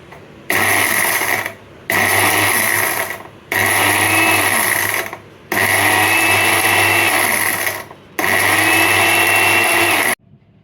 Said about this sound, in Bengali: মিক্সিতে আমি ভাজা মশলাটা দিয়ে দিলাম। এবার এটা ভালো করে গুঁড়ো করে নেব।